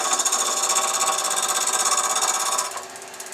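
A wood lathe with a faceplate spins a piece of pallet wood at about 900 RPM, giving a loud, close, steady rattling whir with a fast pulsing rhythm that drops in level near the end.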